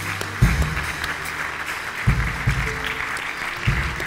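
A church congregation applauds together, a steady wash of clapping with a few heavier low thumps standing out, fairly loud and continuous throughout.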